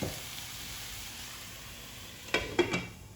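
Garlic, onion, ginger and tomato sautéing in a pan for chicken kinamatisan, with a steady low sizzle and a few sharper bursts of spattering toward the end.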